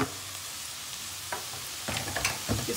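Chopped blanched spinach and onion frying in a pan, a steady low sizzle with a few stirring scrapes and clinks toward the end, close and fairly quiet.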